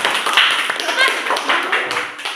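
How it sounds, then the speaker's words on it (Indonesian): Fifth-grade classroom of children clapping hands for a group that just presented, a dense, steady patter of many hands, close and fairly loud, with voices mixed in. "Kasih tepuk tangan"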